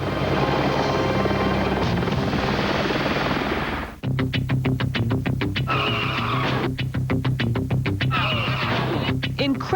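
A helicopter roars loudly and continuously, its rotor settling into a rapid, pulsing chop partway through, with heavy engine noise throughout.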